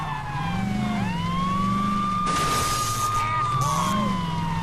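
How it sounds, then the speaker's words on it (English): Police car siren in the Saints Row 2 video game, a loud steady wail sweeping up and down over a low engine drone, with bursts of broadband noise partway through. "if you're wondering how to activate the siren, just click the right analog stick"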